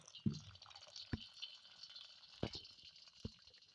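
Cooking water is poured off a pot of boiled rice in a Pakistani village kitchen, giving a few faint, separate splashes and drips against a quiet background.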